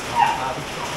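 A Dutch Shepherd dog lets out a single brief, high whimpering yelp while out on a walk in the rain, close by against a steady background hiss.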